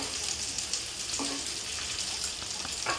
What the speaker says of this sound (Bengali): ফুলকপিটা আমি লাল লাল করে ভেজে নেবো